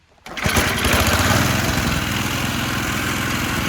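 A warm Toro snowblower engine, one that otherwise won't run without choke, catches almost instantly and settles into a loud, steady close-up running drone with a fast rhythmic chug, holding speed for several seconds.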